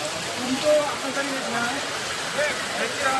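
Heavy first monsoon rain pours down at Amboli in the Konkan near a cricket ground, a steady dense hiss filling the whole clip with faint voices underneath.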